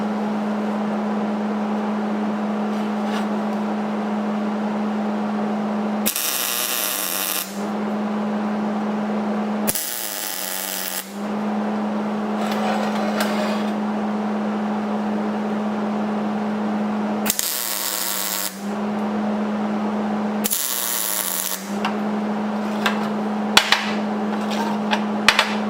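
Short bursts of tack welding on custom motor mount stands for a '56 F100, four harsh crackling buzzes of a second or two each, loud and close over a steady electrical hum, separated by quiet pauses.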